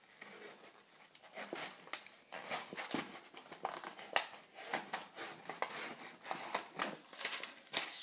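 Packaging on a survival kit item being cut open and torn down, heard as a quiet series of crinkling, snipping and tearing bursts that repeat irregularly over several seconds with no talking.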